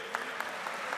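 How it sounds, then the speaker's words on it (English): Audience applause at the 13th Bharatiya Chhatra Sansad student parliament event, a brief burst of steady clapping from a large crowd with a few sharper claps standing out, no talk. "A big round of applause, my friends."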